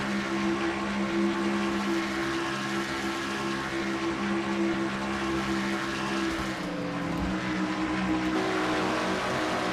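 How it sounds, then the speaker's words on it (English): A stock car racing video game plays a roof-cam view of a race car at speed, its engine holding a steady, loud droning whine with a slight pitch dip near the end. "Roof cam from Sanford's car as he pushes Joshua Osborne to the lead"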